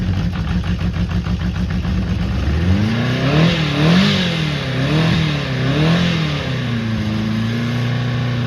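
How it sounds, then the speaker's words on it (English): A cold classic Honda CB400 Four motorcycle idles close by, then is revved in several rising and falling bursts before settling back to a steady idle, loud and alone. "People keep having a go at me for revving it too much when it's cold"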